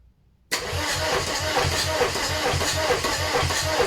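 A TDI diesel engine swapped into a VW camper cranks on a garage floor, its starter churning in fast, even, rhythmic pulses that begin abruptly after a moment of near silence and hold steady and loud without catching.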